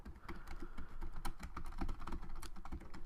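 Computer keyboard typing text into a PDF, a rapid, continuous patter of close key clicks at moderate volume with no talking.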